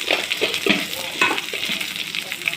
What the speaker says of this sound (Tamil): வெங்காயம் பெரிய வெங்காயம் சின்ன பெரிய வெங்காயம் ரெண்டு கட் பண்ணி போட்டுக்கோங்க வெங்காயம் நல்லா வதங்கட்டும்